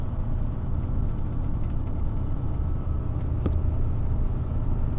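A truck cruising on the road, its engine a steady low rumble with constant road noise, close and even throughout, and one brief click partway through.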